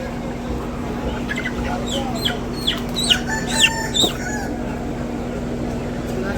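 Hens and roosters at a simple village market give a run of sharp clucks and squawks mid-clip, standing out over a steady background hum and nearby conversation.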